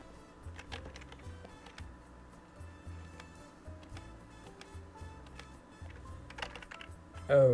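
Someone types on a computer keyboard, a faint, steady patter of small clicks under quiet background music, with a louder thump at the very end.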